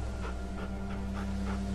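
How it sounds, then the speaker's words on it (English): A dog in The Walking Dead video game pants in quick, soft, rhythmic breaths over a low, steady background hum. "It's a dog."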